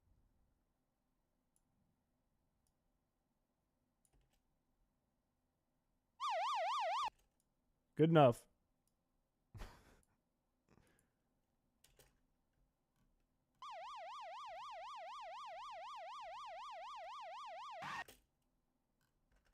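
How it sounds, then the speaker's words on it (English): Police siren sound effects play in short bursts: a brief wailing blast, then later a longer rapid warbling siren of several seconds, separated by quiet with faint clicks and thumps; a voice speaks briefly. "Why is there 10 police sirens mixed into this?"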